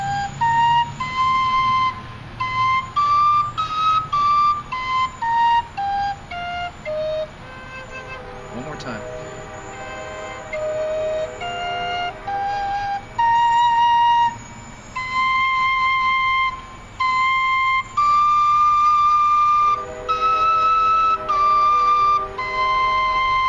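A four-hole Cherokee whistle plays a minor pentatonic scale, clear breathy tones stepping up and down in a steady run of separate notes, close and fairly loud.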